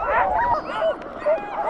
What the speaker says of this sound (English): You very quickly get used to the barking